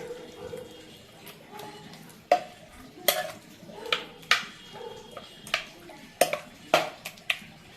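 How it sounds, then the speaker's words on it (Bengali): Soft scraping and stirring as mashed eggplant is mixed, with sharp metallic taps of a ladle against a pot, repeated at irregular intervals, close by and fairly quiet. "সব একসঙ্গে এইভাবে হাতা দিয়ে মেখে নিলাম"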